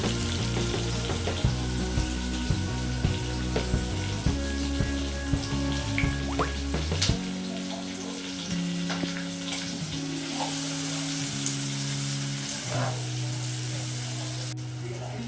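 Onion, tomato and dill greens fry in a pan with a continuous sizzle, broken by clicks and stirring knocks over the first half and softer later, while a low hum sits underneath.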